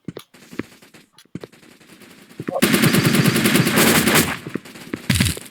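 Rapid automatic gunfire from the online shooter game Blockpost, with scattered single shots at first, then a long dense burst and a final short burst, loud and close, with no talking.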